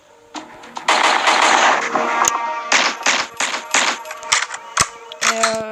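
Pistol shots from the mobile game Pixel Gun 3D crack in quick bursts and single reports, loud and close, with short gaps between volleys.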